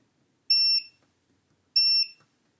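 A multimeter in continuity mode beeps twice while probing capacitors on a PlayStation 5 board, two clean high-pitched tones of about a quarter second each, clear and close in an otherwise quiet room.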